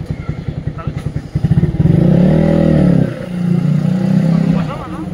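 A motorbike with a faulty starter sputters to life, then its engine revs up loudly for a couple of seconds before settling into a rougher idle, with people talking nearby.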